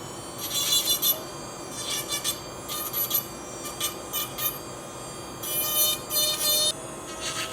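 A denture's sharp edge is ground smooth with a small rotary tool, giving intermittent close, high rasping bursts over a steady motor whine.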